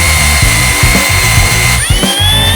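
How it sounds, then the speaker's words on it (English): A power drill bores through metal Unistrut at low gear and slow speed, loud and close, its motor pulsing in a steady chugging rhythm before the pitch rises near the end. "Low and slow for drilling metal, low gear, nice and slow"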